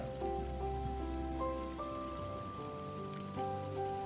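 Steady rain pattering on a surface, a constant wash of drops, with soft sustained musical tones playing over it.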